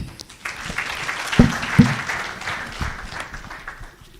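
Applause from the audience at a Right To Play Rwanda certificate awarding ceremony, a moderate round of clapping with a couple of sharper close claps standing out before it fades.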